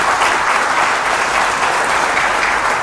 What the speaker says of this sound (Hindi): भारत की उस शक्ति के नाम आपको ताली बजानी चाहिए।